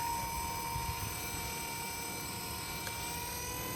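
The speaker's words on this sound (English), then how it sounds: "the 230 is a nice helicopter." A Blade 230s radio-controlled helicopter hovers, giving off a steady, close, high-pitched motor and rotor whine with no talking.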